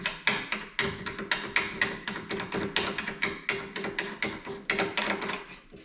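Kit fixings being screwed into holes by hand: a quick, regular train of close, light clicking and scraping turns, many in a row at a steady rhythm.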